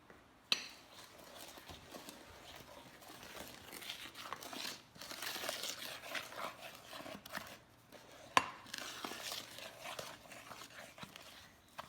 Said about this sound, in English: we're actually going to stir it around with our spoon before we use our hand mixer